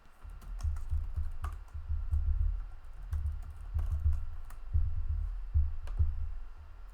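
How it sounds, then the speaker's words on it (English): Fast, steady clicking of a computer keyboard being typed on close to the microphone, in continuous bursts with brief pauses and no voices. "Sorry you can't see my keyboard."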